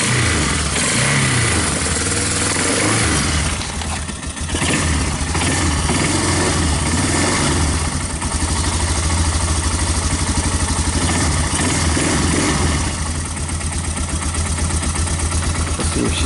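A 1999 Yamaha Bear Tracker 250 ATV engine runs with the choke partly on while cold, settling into a loud, steady, throbbing idle that continues close by throughout, with small dips in level but no speech.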